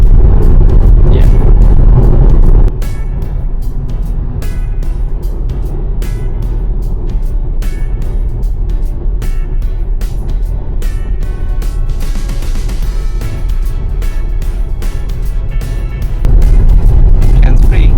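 A new Tesla car drives through a blizzard, its steady road and wind rumble heard from inside the cabin, with people talking over it throughout.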